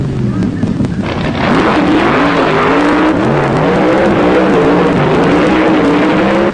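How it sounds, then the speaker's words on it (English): Nitro-fuel dragsters on a drag strip, a loud sustained engine roar rising in pitch as the cars accelerate down the track, with a voice talking over it. "In this run with the nitro fuelers, Danny Wanger driving"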